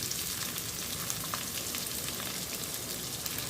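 Chopped onion sizzles steadily in a hot pan with garlic already sautéed in oil, a continuous close frying hiss with faint crackles and no voices, while cooking mixed lentil dal.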